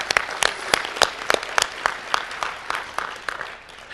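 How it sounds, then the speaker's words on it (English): Audience at a Hall of Fame dinner applauds an inductee, loud sharp claps landing in a quick uneven rhythm close by, tapering slightly toward the end with no talking over it. "I'd like to give Warren a round of applause as a Hall of Famer."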